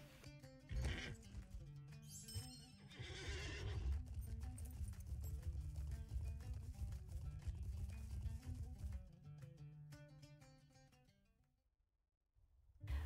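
Horse hooves clip-clopping steadily in The Lord of the Rings Online as a rider gallops downhill, a close, rhythmic drumming that carries for several seconds before fading into brief silence.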